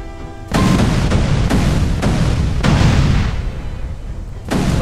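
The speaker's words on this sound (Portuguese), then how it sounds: "Ele explode tudo que tiver à sua frente aí, ó. Cria umas explosões bem potentes." Powerful explosions from a jutsu mod in the video game GTA San Andreas boom out as a sudden loud blast followed by several more heavy bursts in quick succession, each trailing off into rumbling noise.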